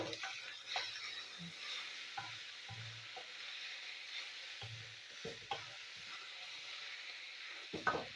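Soybean chunks frying with radish greens in mustard oil in a pan give a soft steady sizzle, broken by a few sharp scraping stir strokes and light clatter, no talking.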